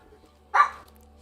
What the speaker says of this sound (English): Dog freaking scared the hell shit out of me.